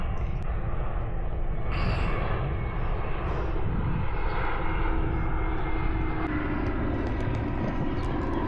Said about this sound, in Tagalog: Aeroplano. Saan kaya pupunta to?